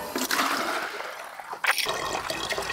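Thums Up soda poured into water, a close gushing, fizzy splash with a sudden louder burst partway through, then continued trickling; no one speaks.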